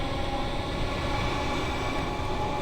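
Train motors hum steadily in the Train Sim World 2 video game, a loud, continuous rail drone with a whining electric tone that holds throughout, with no talking.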